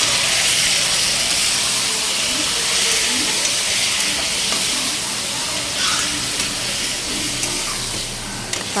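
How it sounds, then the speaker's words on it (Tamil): Marinated mutton frying in hot oil gives a loud, steady sizzle and hiss that holds throughout, with a few faint scrapes of stirring. "இப்போ அந்த எண்ணெயில் நல்லா கொஞ்சம் அப்படியே ஃப்ரை பண்ணி விடுவோம்"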